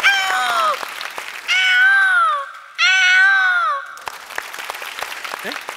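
A boy on a stage comedy show does a vocal imitation of a peacock call, three loud, wailing, rising-and-falling cries in close succession, followed by a low murmur of background noise.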